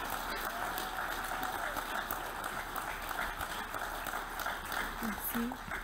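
Audience applause at the 37th Quebec harm reduction conference, a steady, dense wash of clapping filling the room from start to finish at moderate distance, with no voices standing out above it.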